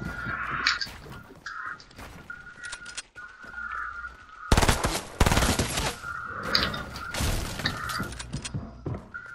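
Fortnite gunfire rings out in sharp cracks and a dense burst mid-clip, with whistling tones and scattered impacts around it, fairly loud and without talk.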